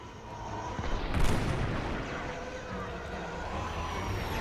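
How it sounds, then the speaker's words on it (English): Continuous blaster and cannon fire with a roaring engine rumble in the space-combat game Star Wars Squadrons, loud and steady throughout. "Who the hell is shooting at me?"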